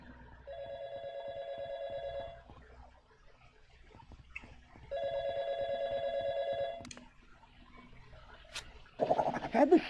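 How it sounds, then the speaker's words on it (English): A telephone rings in the video game Yiik, two clean electronic ring bursts of about two seconds each separated by quiet, followed by a brief louder clatter at the end. "Another spooky phone call?"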